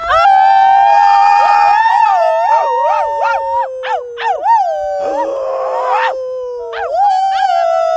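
Several people howl together imitating wolves outdoors at twilight on the edge of a rocky face, long rising and falling voiced wails overlapping, close and loud, with yips and breaks between.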